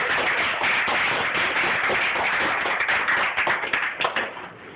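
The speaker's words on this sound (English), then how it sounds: "Give a round of applause." Audience applause fills a lecture hall, dense steady clapping that holds loud for about four seconds, then thins into scattered individual claps as it fades.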